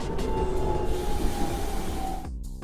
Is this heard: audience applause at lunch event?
no